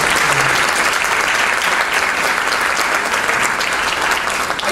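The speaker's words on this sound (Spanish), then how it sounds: "un aplauso a ambos." A large panel audience at a conference applauds in a dense, steady wash of clapping that holds loud and even throughout, with no talk over it.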